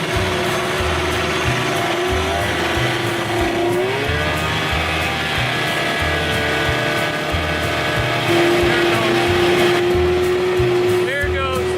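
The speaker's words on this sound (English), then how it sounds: "Sounds like an outboard." An old outboard boat motor runs loud and close throughout, a continuous droning whine whose pitch climbs and shifts as the throttle changes, with steady low rumble underneath.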